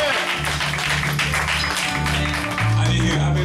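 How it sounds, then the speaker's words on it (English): Church audience applauding during a service, a continuous roar of clapping mixed with loud music and bass under it. "Give another big round of applause."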